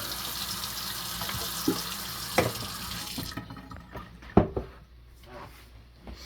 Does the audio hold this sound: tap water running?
yes